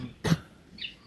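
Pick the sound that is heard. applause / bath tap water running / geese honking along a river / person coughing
person coughing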